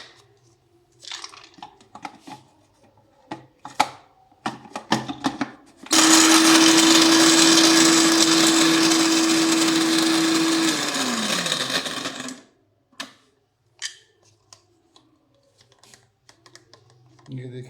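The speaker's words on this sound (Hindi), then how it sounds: "पिस्ता भी पीस लेंगे हम इसी तरह थोड़ा सा डाल के।" A small kitchen grinder blitzes a little handful of pistachios for a hot almond milk drink, a loud steady whir lasting about six seconds and then winding down, framed by scattered clicks and handling knocks.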